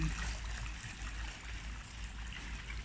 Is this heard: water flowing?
yes